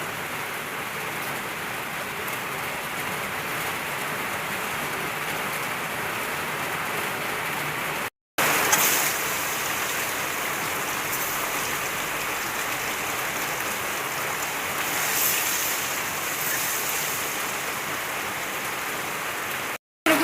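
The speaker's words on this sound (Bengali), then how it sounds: "বৃষ্টি আর কমে না" Heavy rain pouring down steadily, a dense continuous hiss at constant loudness for the whole stretch, broken only by a brief dropout, with no voices.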